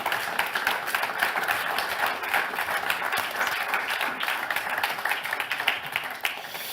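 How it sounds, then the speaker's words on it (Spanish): Applause from the audience at a Spanish panel on European digital sovereignty as the participants leave the stage, a continuous moderate patter of many hands, slightly distant, sustained throughout. "pido, por favor, un fuerte aplauso para ellos mientras abandonan el escenario."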